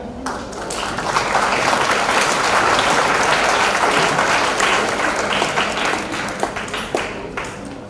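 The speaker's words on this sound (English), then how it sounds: "Give a clap." Conference audience at the 131st All India Brahmo Conference bursts into sustained applause, a dense, loud wash of many hands clapping that holds steady for several seconds before thinning out near the end.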